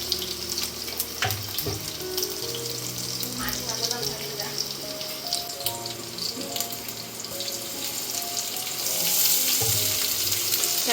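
Onion sautéing in a pan with three green chilies and four or five crushed garlic cloves, a steady close sizzle and hiss running throughout, with light clinks of a utensil, under background music.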